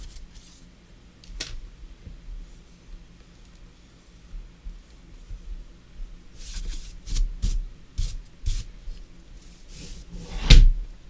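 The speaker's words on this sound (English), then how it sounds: "Oops, my keyboard fell down." A computer keyboard, propped against a wall beside a desk, falls and clatters down onto the desk in a few rattling knocks, ending in one sharper, louder impact near the end, with quiet room noise before.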